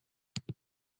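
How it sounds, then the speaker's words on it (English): Two quick computer mouse clicks in close succession, sharp and isolated against near silence. "it looks like I clicked it by accident twice"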